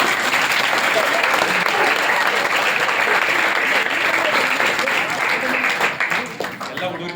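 Audience applause fills a hall at a Kannada speaking event, loud and continuous for about six seconds before thinning out near the end, with no voices heard over it.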